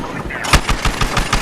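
Helicopter guns firing in Battlefield Hardline, a rapid, loud burst of evenly spaced shots that keeps a steady automatic rhythm.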